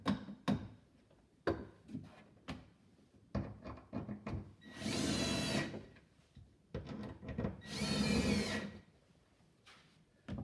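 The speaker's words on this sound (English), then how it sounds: "We got a wood wall, so we don't need any drywall anchors. Just use the screws like here." Screws being driven into a wooden wall while mounting a large sand picture, two long buzzing bursts of a powered driver between clusters of close clicks, taps and handling knocks, no talking.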